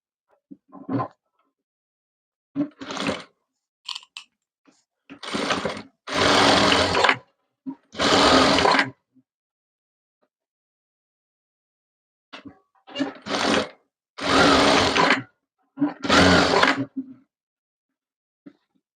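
A sewing machine stitches the shoulder joint of a saree being turned into a maxi dress, running in short whirring bursts of varying length, a cluster early, then a pause, then another run of bursts, loud and close.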